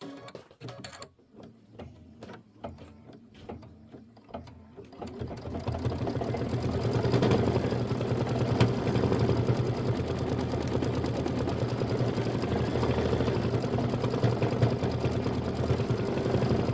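An embroidery machine stitches out a quilt block, starting with a few sparse clicks and short bursts before settling into a steady, fast, mechanical whirring hum of needle strokes, close and continuous.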